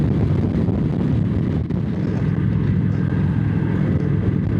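Wind buffeting the microphone while riding a Kawasaki VN900 motorcycle on a cold, windy road, a loud constant low roar mixed with engine rumble that barely lets up.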